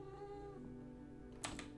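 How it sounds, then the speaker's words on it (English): A cat gives a drawn-out tonal meow indoors, faint and close, followed by a brief burst of clattering or tapping. "Oh my god, Mr. Cat, you almost fell to your death."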